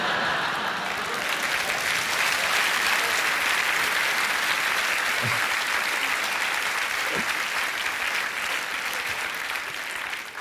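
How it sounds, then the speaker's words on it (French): Audience applause fills a hall during a stand-up comedy show, a broad, steady roar of clapping hands that swells slightly and then tapers near the end, with no speech. "Normalement, il n'y a que les enfoirés qui applaudissent à ce moment-là"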